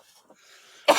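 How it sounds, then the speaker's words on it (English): A single sharp cough bursts out near the end, loud and close, after a stretch of quiet room tone with faint murmurs. "Sorry for coughing, folks."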